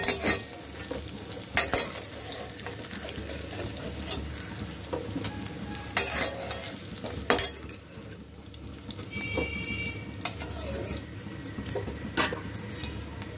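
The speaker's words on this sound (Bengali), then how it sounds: "দুটো এলাচ দিয়ে দিলাম, দারচিনি দিয়ে দিলাম, তেজপাতা দিয়ে দিলাম, আর একটু জিরে ফোড়ন দিয়ে দিলাম।" Whole cardamom, cinnamon, bay leaf and cumin seeds temper in hot oil with a constant crackling sizzle, broken by intermittent sharp clatters of a spoon against the pan.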